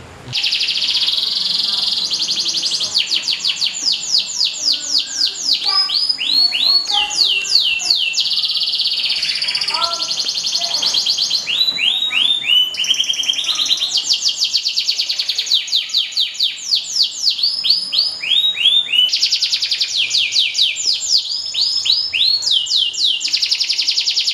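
A canary sings on and on in close, loud, rapid trills and warbled phrases with brief pauses, heard from a bird-keeping setting in Semarang.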